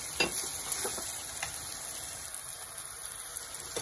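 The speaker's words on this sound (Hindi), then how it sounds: "गार्लिक जिंजर पेस्ट जो है वो भी गोल्डन हो चुका है, तो अब इसमें टमाटर ऐड कर देंगे।" Garlic ginger paste frying golden in a pan as chopped tomatoes go in for a chicken achari biryani, giving a steady close hiss and sizzle with a few stirring clicks and no talking.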